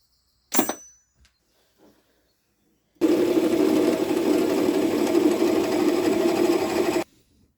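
A lathe in a glassblowing workshop whirring at a steady pitch for about four seconds before cutting off abruptly. A sharp clink comes first, then near silence.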